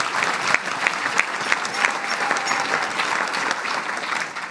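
A large audience applauds at a comedy speech, a dense, even wash of clapping that holds steady from start to finish with no voices over it.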